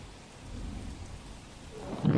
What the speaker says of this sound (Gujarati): ગઈકાલથી જ દ્વારકામાં ભારે વરસાદ પડી રહ્યો છે